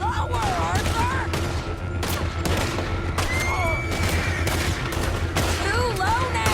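Gunfight in Red Dead Redemption 2, with rapid volleys of gunshots crackling throughout alongside whistles and shouting voices, a steady loud battle din.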